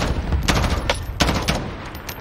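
Gunfire rings out in the video game Call of Duty: Warzone as a rapid cluster of loud, sharp shots cracks across about two seconds over steady background game noise, without voices.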